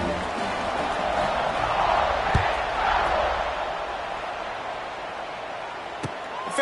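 Stadium crowd noise in the College Football 26 video game, a steady dense roar that swells slightly midway, with a couple of faint thumps, continuous throughout.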